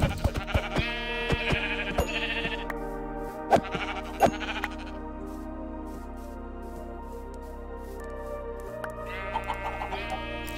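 Video game sheep bleat several times in short bursts alongside clucking chickens and sharp clicking sounds, with a steady background tone underneath.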